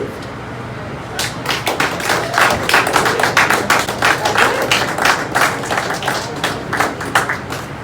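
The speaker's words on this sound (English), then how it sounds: "Can we have one more round of applause for that lovely young lady?" After a brief quiet start, an open mic audience breaks into clapping, a loud, close patter of distinct individual claps from a modest crowd that holds steady to the end.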